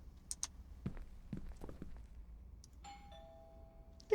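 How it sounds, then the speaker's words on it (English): In the video game Within, footsteps approach and a few taps land, then a doorbell rings with two clear electronic tones, followed by quiet and another sharp sound at the very end. "I should just ring the doorbell, see if he answers."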